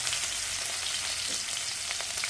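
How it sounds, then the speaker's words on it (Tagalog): Aromatics such as onion and garlic sauté in hot oil in a frying pan, giving a steady, dense sizzle that stays close and continuous throughout, with no talking. "Igisa muna natin yung ating ricado."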